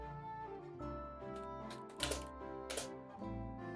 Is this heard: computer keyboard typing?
yes